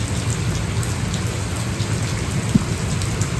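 Steady heavy rain after a typhoon-flood falls as a dense, even hiss over the whole stretch, close and loud with no voices.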